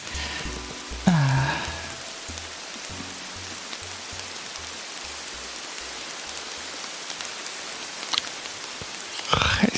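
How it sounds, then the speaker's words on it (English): Steady rain patters on a surface throughout, a dense even hiss with a low rhythmic thudding beneath and a brief voice sound near the start and end. "It's some nice rain sounds."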